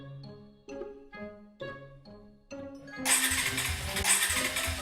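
A motorcycle engine cranks in several short sputtering attempts, then catches and roars into a loud, rough running idle.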